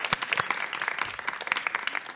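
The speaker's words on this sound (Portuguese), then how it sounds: "Salva de palmas aí para os nossos amigos" Audience applause for a theatre's sound and lighting technical team, a short burst of dense hand clapping from a small crowd at steady volume.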